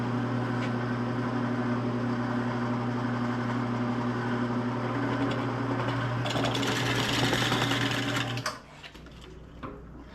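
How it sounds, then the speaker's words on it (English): Drill press with a self-feeding bit boring a through hole in a wooden shelf rib for a tool caddy: a steady whining motor hum, rising to a harsher cutting roar near the end before cutting off abruptly. "So now I want to drill a through hole in this."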